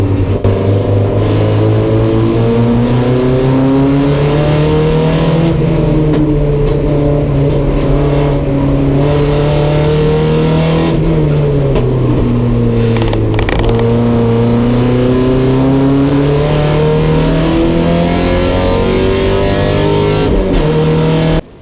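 A race car laps the Winton racing circuit with a loud, steady engine drone that swells and dips in pitch as it accelerates and shifts through corners, heard close up without talk.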